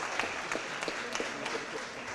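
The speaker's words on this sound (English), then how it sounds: "Let's give them a big round of applause" An audience at a Board of Aldermen meeting gives a round of applause, fairly faint and brief with a few sharper individual claps standing out from the steady patter.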